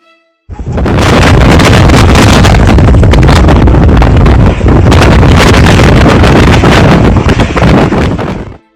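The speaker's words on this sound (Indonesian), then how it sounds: "Angin puting beliung terjang Bojong." Strong roaring gusts of a puting beliung tornado tearing through houses in Bojong, Tegal, a dense, continuous rush of wind that stays loud and close for several seconds with no voices.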